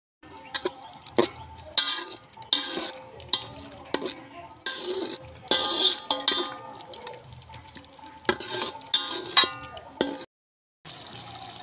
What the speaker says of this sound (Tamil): தயிரை போட்டு நல்லா கிண்டிக்கணும்.